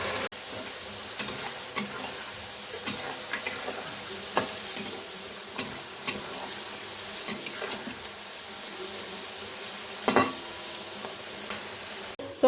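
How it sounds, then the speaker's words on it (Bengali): Carrots and other vegetables frying in oil for fried rice, a steady close sizzle with repeated clinks and scrapes of stirring throughout, one louder clatter near the end. "গাজরটাকে আগে ভেজে নেই, একে একে সব সবজি ভেজে নেব"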